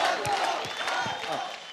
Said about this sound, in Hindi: जोरदार ताली हो जाए साजन के लिए